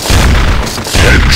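Shotgun fire in the mobile shooter Critical Strike: two loud, heavy booming blasts close together, each with a rumbling tail, filling the short stretch.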